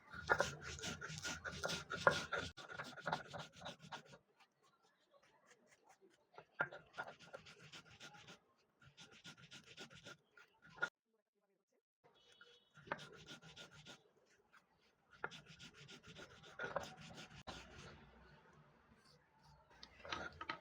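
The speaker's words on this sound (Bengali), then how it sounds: "কালো জিরাটা খুব মিহি করে বাটতে হবে এটা কোনো দানা দানা থাকা যাবে না" Black cumin seeds ground very fine on a grinding stone, a rhythmic rubbing and scraping in repeated bursts separated by brief pauses, close and fairly quiet.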